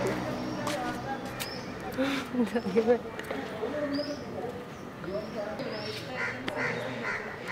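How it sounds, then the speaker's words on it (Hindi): Several crows caw outdoors during a pre-wedding shoot, their harsh calls coming in scattered bursts at moderate distance over steady background noise and a low murmur. "ये कौए शांत नहीं हो रहे सारे"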